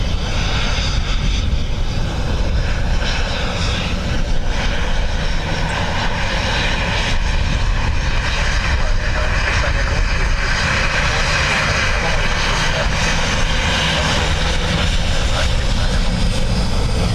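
Ryanair jet engines at Dublin Airport give off a loud, continuous roar that stays steady across the whole stretch, broadband and close, in blustery weather.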